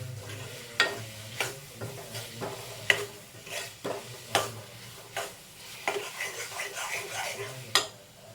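A spoon scrapes and clinks against a pan in an irregular rhythm while prawn masala sizzles steadily underneath, close and clear.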